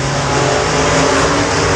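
Stock cars roar around Timberline Speedway in a race, a loud, steady wall of engine drone with layered, overlapping motors close by and no break in the noise.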